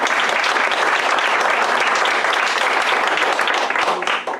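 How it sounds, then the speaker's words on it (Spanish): A church congregation bursts into loud, continuous applause, a thick wash of many hands clapping at once that holds steady for several seconds before easing slightly at the end. "¿Quién le da un aplauso al Señor?"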